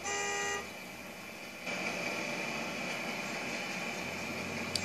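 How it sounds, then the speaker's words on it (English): A custom train horn in Trainz 12 sounds from inside the cab, one brief chord-like blast lasting about half a second, followed by a quieter cab hum. "this is what the horn sounds like from the inside."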